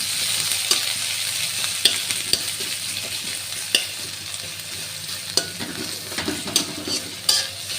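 Chopped onion and cumin seeds fry in hot oil in a pan, a continuous close sizzle broken by repeated sharp scrapes and clicks of a spoon stirring against the metal.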